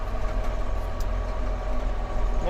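DTZ 5504 NK tractor engine idling steadily while the hydraulics lift a load, a continuous low droning rumble held at an even level with no revving.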